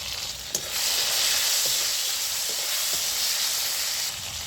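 Tomatoes with sugar and salt fry in hot oil, giving a steady, close, loud sizzle with a faint stir or clink near the start; no voices are heard.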